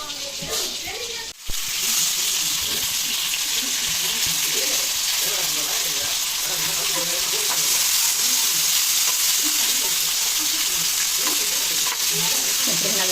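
Katla fish pieces frying crisp in a pan, a loud, dense and continuous oil sizzle with bubbling crackle heard close up for the whole stretch, briefly dipping near the start.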